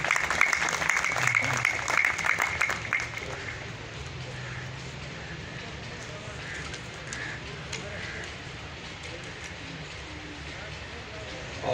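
An audience at a vocational job fair applauds to welcome a speaker. The clapping is loudest in the first few seconds, then thins to a scattered patter, with a little murmuring in the background.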